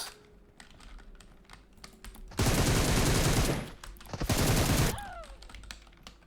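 Video-game gunfire rips out in two loud, sustained bursts of rapid automatic shots, with light keyboard clicking before and between them.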